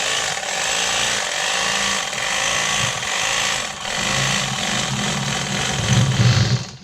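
Electric fillet knife buzzing continuously through a crappie fillet as it separates the skin against a cutting board, ending with short tapped bursts of the motor.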